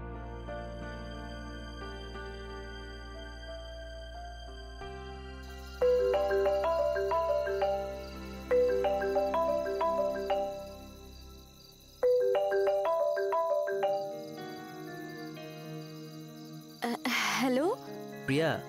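A phone rings on a callback, a repeating melodic ringtone tune that starts after a quiet stretch and plays in several bursts, fairly clear, in an Assamese TV drama scene.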